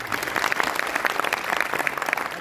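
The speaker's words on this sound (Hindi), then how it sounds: "तालियां कम हैं आशू मिश्रा के लिए।" An audience at an Urdu poetry mushaira claps briefly and steadily, a moderately loud patter of many hands heard close.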